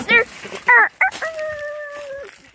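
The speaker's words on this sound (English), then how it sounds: "Did you hear that rooster?" A rooster on a farm crows once, loud and close, a long drawn-out call following a few short clucks, with a faint voice briefly underneath.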